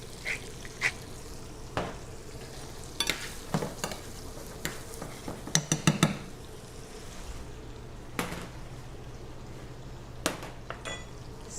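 A bunch of shrimp sizzle in plenty of butter in a pan, a steady moderate hiss broken by scattered sharp clicks and scrapes from stirring, with no voices.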